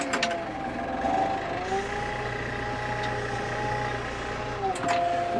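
A vehicle engine pulls away in first gear, a steady mid-level drone with harmonic whine that holds evenly before a brief shift in pitch near the end.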